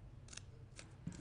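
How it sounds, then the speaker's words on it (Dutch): Scissors cutting a small nick into a longer strip of paper folded in half, heard as a few crisp, close snips spread over about a second with no talking. "en u heeft er een klein knipje met de schaar in"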